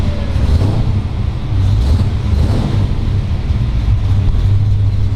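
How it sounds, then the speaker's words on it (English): A 1935 Ford Deluxe Rumble Seat Roadster with a 383 Tri-Power engine idles with a loud, steady low rumble, running close by without any talk. "Fire it up and take it for a drive."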